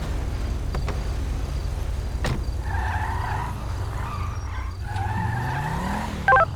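A car skids and wrecks in GTA 5 during a police pursuit, with tire squeal and engine noise over a low rumble, moderately faint and steady with a few sharp knocks.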